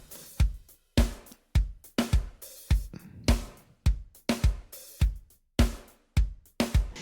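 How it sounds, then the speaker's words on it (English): A clean-sounding drum kit plays a steady groove of punchy kick and snare hits with cymbals, evenly spaced and dry, close and clear, with no voices. "I love this drum kit. It sounds clean."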